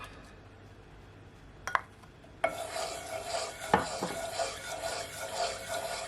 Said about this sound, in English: You want to give it a stir so everything will all combine.